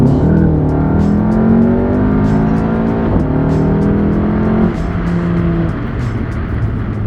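A VW GTI pulls hard in second gear, its engine note climbing steadily in pitch over several seconds with a brief dip mid-pull, loud and close from inside the car, no voices.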